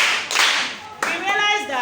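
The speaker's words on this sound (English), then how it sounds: "Clap for yourselves." A classroom audience at a Ghana history lesson gives a short burst of applause, then a voice rises over it.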